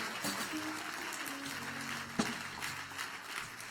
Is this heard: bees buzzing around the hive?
no